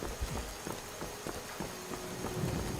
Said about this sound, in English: It's just kind of just a gentle little splash with each raindrop falling through the trees.